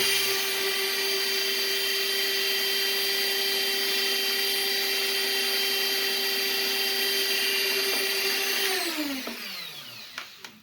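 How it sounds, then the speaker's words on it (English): Electric toothbrush head buffing a metal lockpick, a steady high, buzzing motor whine with a raspy grinding edge that holds evenly and then drops in pitch and fades as it winds down. "begin to buff the metal just to give it a little bit of a better look, cleaner bit of a look"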